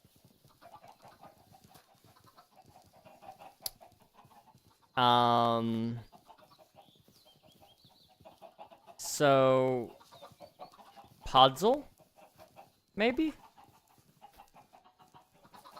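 Video game chickens cluck in four short, loud harmonic bursts spaced several seconds apart, over a faint steady background.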